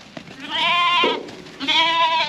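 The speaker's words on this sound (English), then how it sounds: "we're just going to move the sheep over quickly" Two loud, quavering bleats close by, separated by a short pause, with faint rustling underneath.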